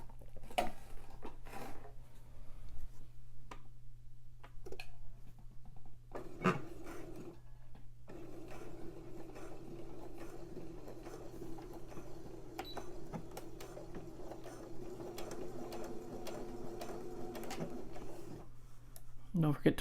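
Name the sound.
sewing machine sewing a straight stitch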